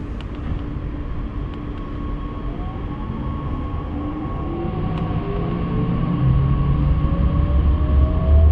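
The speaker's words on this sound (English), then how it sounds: "we can see and hear our train leaving one of those stations" An S-Bahn train on the Rostock to Güstrow line pulls out of a station, its low rumble and rising motor whine building steadily over several seconds with no talking.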